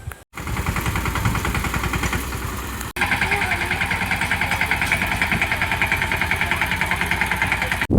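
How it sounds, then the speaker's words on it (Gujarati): A tractor engine chugs close by in a steady, rapid rhythmic beat, running continuously with a brief dropout partway through. "આ છે ને tractor લઈને મારા મામા છે ને આવી ગયા છે"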